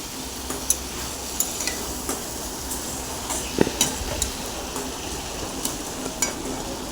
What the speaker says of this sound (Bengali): আমি এখানে মশলাগুলো কষিয়ে নিচ্ছি